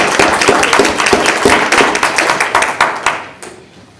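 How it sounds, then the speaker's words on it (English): An audience at a school board meeting gives a short round of applause, dense clapping that thins out and fades after about three seconds. "But let's kind of start with just a round of applause."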